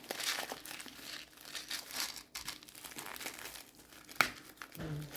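Plastic packaging crinkles and rustles as it is handled and opened, with one sharp crackling tear near the end; quiet and close.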